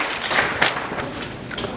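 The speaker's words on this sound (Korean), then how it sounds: "박수로 봐주시기 바랍니다" A seated audience at a Korean seminar on welfare education applauds as a presenter is introduced, a dense, even wash of clapping that holds steady at close, fairly loud level.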